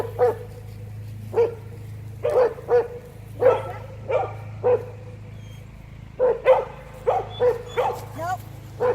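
Several dogs barking outside, a string of short separate barks and yips at moderate distance, irregular and clustered over a low steady background hum, with a person talking between barks.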